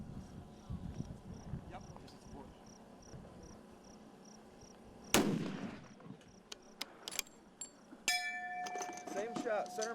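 A long-range rifle shot rings out at a distant target, a sharp broadband crack followed by scattered impacts and clinks, with insects chirping steadily in the open-air background throughout.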